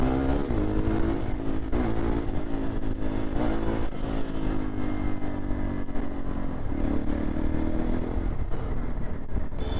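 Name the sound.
motorcycle riding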